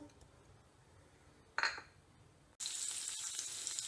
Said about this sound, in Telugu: ఆయిల్ వేడెక్కిపోయింది. దీనిలో నేను మస్టర్డ్ సీడ్స్, క్యూమిన్ సీడ్స్ వేస్తున్నాను అనమాట